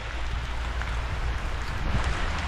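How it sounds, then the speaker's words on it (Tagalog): Heavy rain pours down on a fishing boat at sea, a dense, steady roar of water, with gusts of wind rumbling through and no talking. "Lakas na ng ulan. Palakas na ng palakas."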